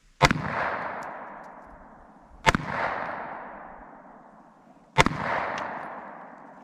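Three loud, sharp pistol shots from a Glock ring out at roughly even intervals, each followed by a decaying echo across an open outdoor range.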